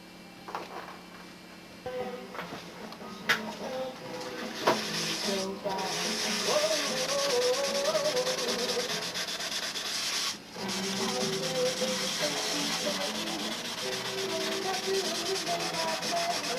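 Steady abrasive rubbing of sandpaper over a silver painted finish on a model aircraft, continuous and close, with brief pauses and a few sharper scrapes early on.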